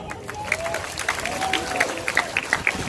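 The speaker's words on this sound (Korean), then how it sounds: "오늘 감사의 박수 보내주시죠." Audience at the opening ceremony of the 2022 Jecheon herbal bio expo gives moderately loud, steady applause, a dense patter of claps with scattered voices murmuring underneath.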